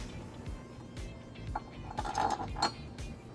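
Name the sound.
carriage bolts clinking as they are handled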